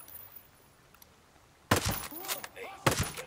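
Gunfire in the video game Ghost Recon: Breakpoint: after a quiet stretch, a loud sharp shot is followed by a burst of echoing reports, then another sharp shot near the end, with someone talking in between.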